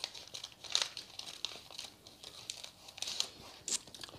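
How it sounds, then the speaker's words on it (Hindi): Paper packaging taped over a gift box crinkles and rustles as it is handled and opened, soft close crackles in short bursts with a few sharper crisp snaps. "कागज़ सी पैकिंग है और टेप चिपकाई हुई है इसके ऊपर"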